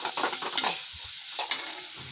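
Chili powder and salt cook in hot oil in a pan, a steady close sizzle with a few soft scraping stirs of a spoon over it.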